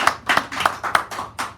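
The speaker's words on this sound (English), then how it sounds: "Give this guy a round of applause." A small audience at a poetry hour in a San Francisco café claps in a brief, uneven patter of hand claps that fades quickly.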